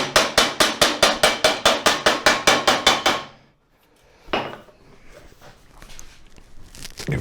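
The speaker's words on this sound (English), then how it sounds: "hammer it down a little bit, flatten out that crease we created" A rapid run of about fifteen loud, evenly spaced hammer strikes beats on sheet metal to flatten a crease in a homemade hand scoop, then stops, followed by a lone clank and quieter handling noises.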